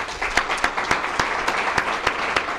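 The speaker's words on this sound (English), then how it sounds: "Big round of applause for Kieran." An audience at a startup interview show applauds Kieran, producing a continuous wash of clapping with several loud individual claps cutting through at a fairly regular rhythm.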